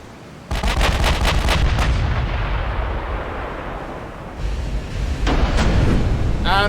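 Sixteen-inch naval guns fire in the warship game Ultimate Admiral Dreadnoughts. A heavy opening boom is followed by a long rumbling roar, another booming salvo, and a faint voice beneath.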